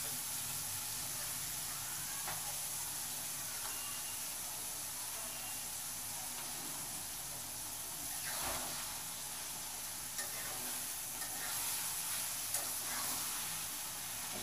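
Bitter gourd (ustha) frying briefly in a pan gives a faint, steady sizzle and hiss, with a couple of soft stirring scrapes and clicks near the middle and end.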